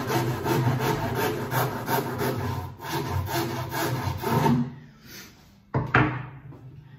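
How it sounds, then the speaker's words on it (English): A small rasp and sanding block work over a wooden snooker table cushion in steady rhythmic back-and-forth strokes, close and loud, then stop, followed by a couple of sharp knocks. "Block, and then our small rasp just to tidy up with."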